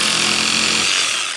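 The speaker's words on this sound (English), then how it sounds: "So I think we got a cutter. Trim that back a hair to here." A power cutter trims back a septic pipe near a septic tank, a loud steady grinding whine running the whole time with no talk, easing off at the very end.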